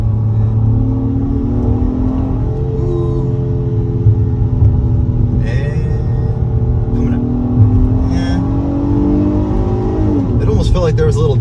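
A 2022 Acura MDX SH-AWD with a 3.5-liter V6, driven hard in sport mode through turns, gives a steady, close engine drone and road rumble with rising and falling revs, while someone talks over it throughout.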